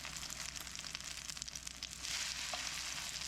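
Rice patty frying in a pan, a steady crackling sizzle with dense fine pops that swells louder partway through, close and alone without talk.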